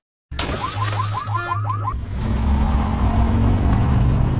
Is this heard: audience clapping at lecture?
no